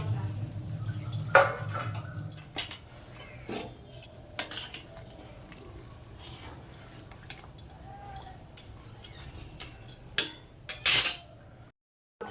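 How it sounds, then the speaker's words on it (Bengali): Pieces of fish go into a simmering fish curry in a pot, with clinks and scrapes of a utensil against the pan, a low bubbling simmer underneath, and a voice speaking at times. "মাছের ঝোলের মধ্যে আমি মাছগুলোকে দিয়ে দিচ্ছি।"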